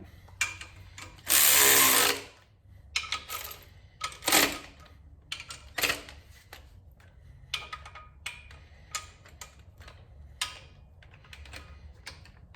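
A power tool tightens bolts on an Audi 2.0 TFSI engine, with a loud whirring burst and shorter zips among scattered ticks and clicks of tool handling. No one talks.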